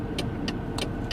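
Inside a moving car with the air conditioning running, a steady low rumble and hum fill the cabin, with a few brief higher clicks or ticks spaced through it and no talking.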